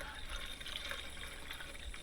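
Water is poured from a jug into a vehicle left off the road for ten years, a faint, steady trickling and gurgling stream with a hissy wash behind it, heard alone.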